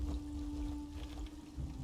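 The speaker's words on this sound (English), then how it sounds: "Pour the ichor on the gate to open the way to Bastion Nimic." Ichor poured onto a gate in The Elder Scrolls Online: Necrom, a steady liquid pour with a low rumble and a constant tone underneath, lasting throughout without talk.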